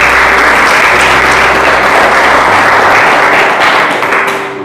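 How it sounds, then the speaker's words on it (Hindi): A church congregation claps loudly together in praise during a Hindi worship service, a dense, sustained burst of applause that fills the room and tapers off at the very end. "ताली बजाकर प्रभु की महिमा करें"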